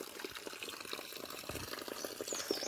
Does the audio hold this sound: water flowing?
yes